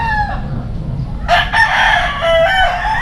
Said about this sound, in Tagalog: Punong-puno ng manok, mga manok dito mga kalaki.